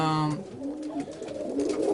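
Serbian High Flyer pigeons coo inside a loft compartment, soft rolling coos rising and falling continuously over two seconds, close by and fairly loud, with no voices.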